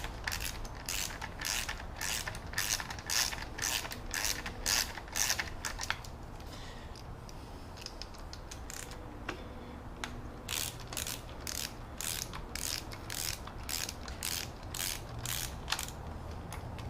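A ratchet wrench clicks as it backs out clutch cover bolts in a workshop, close and steady, with bursts of rapid ratcheting separated by brief pauses and no talk.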